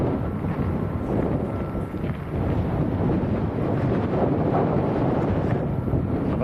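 Strong wind of about 15-20 knots blowing from the north at Lanzarote airport, a constant loud rumbling roar buffeting the microphone throughout, with no speech.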